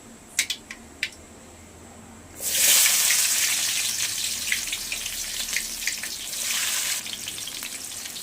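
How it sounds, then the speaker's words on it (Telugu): Onion dropped into hot oil with mustard seeds bursts into loud, steady sizzling frying, following a few sharp crackles and pops of the seeds beforehand; close and continuous, with no talking. "ఆవాలు అనేది వేగిపోయిన తర్వాత ఆనియన్ వేసుకుందాం"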